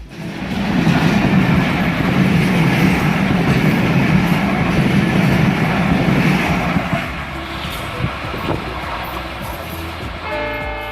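Barendra Express intercity train, running between Rajshahi and Chilahati with white 2002 PT Inka coaches and a Chinese luggage van, rumbles past loud and close, the roar easing after a few seconds, with a brief horn-like tone near the end.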